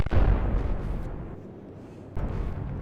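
Warship guns fire in the naval combat game Atlantic Fleet: a heavy booming blast that rumbles away, then a second deep report near the end, loud and unaccompanied by voices.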